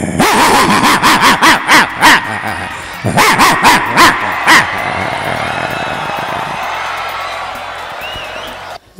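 A voice imitating a local street dog barking, rapid runs of close, loud yapping barks in two bursts, then fading into quieter background noise.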